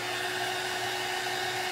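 Hair dryer blowing on wet paint on brown craft paper: a steady, close whooshing motor hum that runs without a break, with no talking over it.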